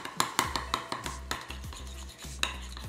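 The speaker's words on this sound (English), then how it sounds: "Mix it in so that the Greek yogurt has that little taste of the Oreo filling." A knife stirring Oreo filling into Greek yogurt in a cup, a quick series of sharp clinks and scrapes against the container in an uneven rhythm, close and clear with no talk.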